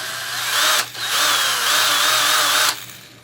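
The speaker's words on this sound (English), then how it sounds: "it's a variable drill" A variable-speed electric drill whirs steadily at high speed, briefly dipping near the start, then running again before winding down near the end, during restoration of a seized Briggs engine.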